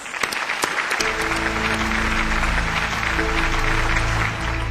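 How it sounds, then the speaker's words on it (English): An audience at an event finale applauds two people called onto the stage, a steady, dense wash of clapping that carries on throughout, with a sustained musical tone rising underneath after the first second. "Please give them a huge round of applause."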